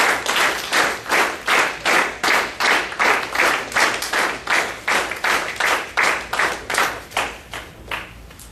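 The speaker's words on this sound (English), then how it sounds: "Please give her a round of applause." Audience clapping at a youth leadership program session to welcome a youth leader about to demonstrate a speech; steady, rhythmic claps repeat evenly and close up for the whole stretch, with no talking.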